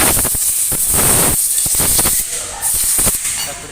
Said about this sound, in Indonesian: Kita semprot brake shoe juga.